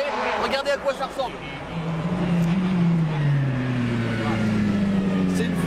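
A 380-horsepower four-wheel-drive WRC rally car on a track, its engine note rising and falling as it passes at a distance, while someone talks over the first seconds.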